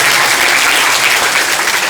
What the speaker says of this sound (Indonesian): Dan kesabaran Ikhwan juga merindukan tepuk tangan semua SMP ini.